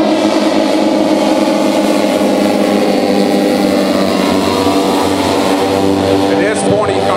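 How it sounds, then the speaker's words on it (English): Engines of a radio-controlled B-29 bomber model with a 20-foot wingspan, carrying an X-1 model, drone steadily during a low photo pass at a flying event, under continuous talk. "this is a photo pass with a 20-foot wingspan B-29"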